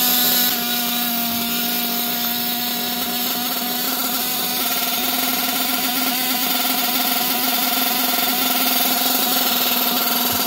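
A Losi LST XXL RC truck's small nitro engine, fitted with a poorly running carburetor, buzzes continuously at a high, steady pitch, loud and close, with no pauses.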